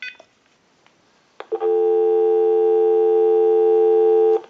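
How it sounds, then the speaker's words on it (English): A few faint clicks, then a loud, steady busy tone from a General Electric 27831 cordless telephone holds for about three seconds before cutting off. "We'll call my number and it'll be busy."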